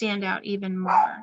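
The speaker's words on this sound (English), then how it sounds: "Sorry about the dogs." A few dogs bark and yip in quick succession, close by, while a person keeps talking over them.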